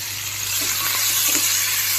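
Chopped onion and green chilli fry in a little oil in a cooking pot, giving a steady close hiss and sizzle with faint crackles throughout, alone and without talk.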